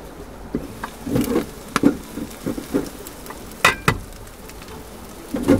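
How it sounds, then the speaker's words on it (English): Corned beef hash cooks in a pan inside a campervan, a soft, faint sizzle under scattered utensil scrapes, taps and clatter of stirring and handling, irregular and close, with no speech. "Oh, that sounds nice. Listen to that sizzling away."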